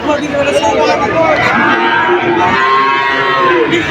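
Cattle low amid a busy village cattle market in Bangladesh on a hot day, a drawn-out moo rising over steady crowd chatter and nearby talk.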